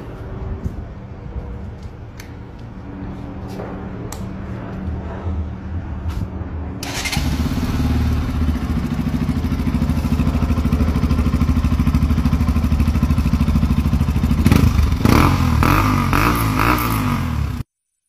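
A Bajaj Pulsar NS motorcycle fitted with a KTM exhaust idles with a loud, steady, close rumble, then revs up and holds a raised, throaty drone, with a brief throttle blip near the end before it cuts off.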